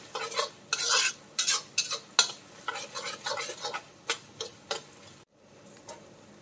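A spoon stirs rock salt through sliced onions frying in a pan for chicken thoran, giving a run of sharp, rhythmic scraping clacks over a soft sizzle, close and loud, ending in a brief silence.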